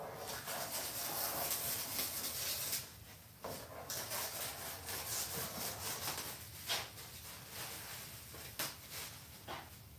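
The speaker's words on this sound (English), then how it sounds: "Let's just trim off this excess." Excess fabric or foam is trimmed off a boat cushion with repeated close rubbing, sawing and tearing strokes, irregular in rhythm and without talk.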